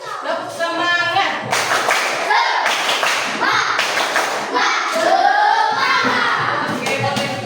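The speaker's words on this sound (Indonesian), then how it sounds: "Kita tepuk semangat dulu. Tepuk semangat." Classroom of children doing a rhythmic group spirit clap, bursts of clapping and thumping mixed with loud young voices chanting along throughout.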